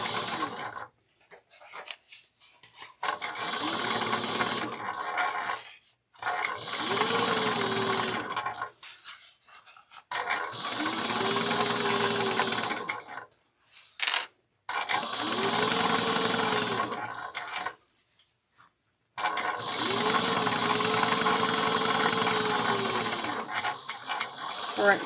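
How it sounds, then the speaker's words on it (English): Sewing machine top stitching a bag at 1/8 inch, running in several steady bursts of rapid mechanical whirring separated by short pauses, close and clear with no talk. "So we're going to top stitch this at 1/8 of an inch."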